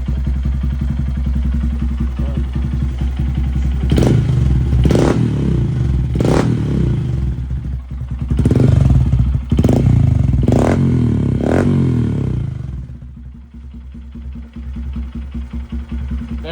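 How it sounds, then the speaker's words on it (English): A Honda Grom single-cylinder motorcycle with an aftermarket exhaust, baffle still fitted, idles loudly up close with a steady putter, then revs sharply about six times in quick blips before settling back to idle. "First startup. Here we go. Oh yeah, Honda GROM, baby. One cylinder."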